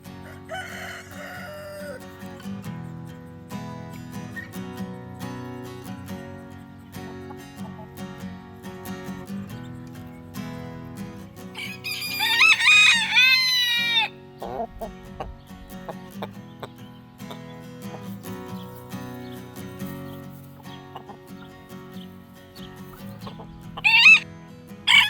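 Farm chickens out of their coop during a heatwave, soft clucking throughout with a louder burst of squawking midway and another short call at the end, nearby and without talk.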